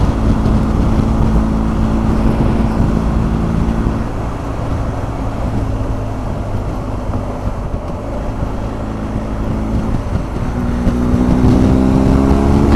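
A BMW R1250 GS Adventure Triple Black Edition motorcycle accelerating in sixth gear, a steady loud engine drone with strong wind rush throughout, the pitch dipping mid-way then rising again near the end.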